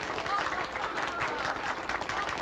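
An audience applauds for Madame Claudia Micheline in a 1962 World War II drama scene, a dense, even clatter of many hands clapping at moderate distance.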